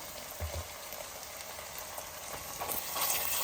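Ginger garlic paste fries with onions in a pot, a soft, steady sizzle and crackle heard close but quiet, with occasional stirring bumps and no talk.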